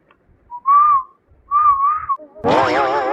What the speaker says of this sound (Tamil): இப்ப எதுக்கு விசில் அடிச்சு கூப்பிட்ட?